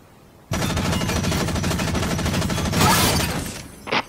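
A mech's gun firing in the video game Front Mission Evolved: a loud, rapid, continuous burst of automatic fire lasting about three seconds, with a brighter blast near the end before it stops.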